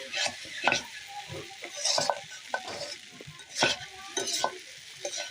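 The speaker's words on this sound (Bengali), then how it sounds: "নিচে যাতে লেগে না যায় এই কারণে একটু নাড়া দেওয়া হইতেছে" Noodles frying in a pan, gently turned with a utensil: an even sizzle broken by repeated soft scrapes and light clinks of stirring, close and without voices.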